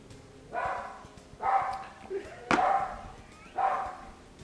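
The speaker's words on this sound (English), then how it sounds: "Quit that barking." A dog named Presley barks four times, each a loud, close bark about a second apart, indoors in a kitchen setting.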